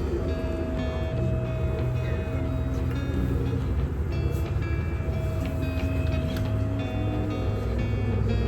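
A train in Germany rumbles steadily on its rails, a continuous low mechanical drone with faint rattling and hum throughout.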